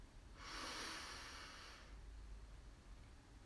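A single long, deep inhale through the nose during a guided breathing exercise, a soft broadband rush lasting over a second, then fading to quiet with faint low room hum.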